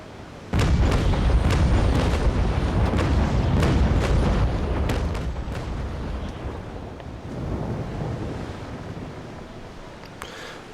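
Naval cannons fire broadside aboard a ship in the naval combat game Naval Action, a rapid series of loud booming shots rolling one into the next, then a lower rumbling tail with a few scattered later reports.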